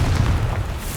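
A Confringo blast spell explodes in Hogwarts Legacy, a deep, loud booming burst with heavy low rumble that fills the whole second without a break.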